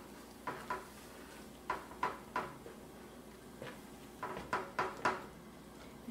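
A sooji and milk mixture is stirred in a pan with a spoon, producing soft, irregular knocks and scrapes against the pan in small clusters, faint and close with no talking.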